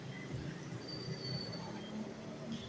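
An LRT light rail train rumbles and squeals on its wheels at a station nearby, with low clatter and a faint high metallic whine throughout.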